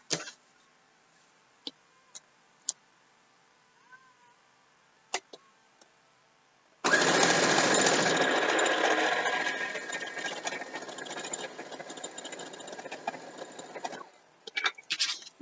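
Sewing machine stitching a quilt, running in one sustained loud burst of several seconds after a quiet stretch of scattered small clicks and taps, then easing off with a few brief stops near the end.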